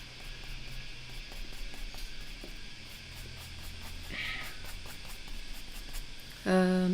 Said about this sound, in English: if you hear it, it's cicadas.